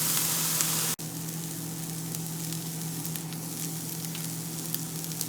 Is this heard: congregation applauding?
no